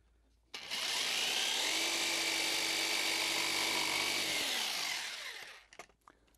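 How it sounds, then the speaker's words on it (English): Saber saw trimming wooden cross bracing to length, a loud, steady high-pitched whine that starts abruptly, runs for about five seconds and winds down, followed by a few light knocks. "Now I'm going to take my saber saw and just trim this off to length."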